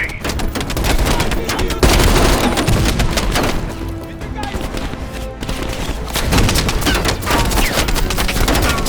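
An enemy machine gun fires in a Call of Duty Black Ops Cold War battle, with loud, dense rattling bursts and booming impacts that run almost continuously, and voices shout over the gunfire.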